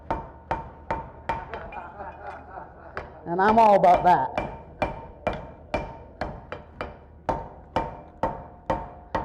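A blacksmith's hammer strikes metal in a steady, ringing rhythm of sharp clangs at a smithing conference demonstration, with a person speaking briefly partway through before the blows continue.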